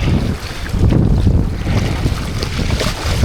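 A strong wind gust roars across open water during parawing on a board, loud buffeting rush and wave wash continuous throughout with microphone wind noise.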